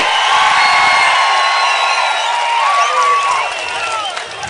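A large crowd at a political rally applauds and cheers continuously, with dense clapping and whoops filling the space at steady loudness before easing slightly toward the end.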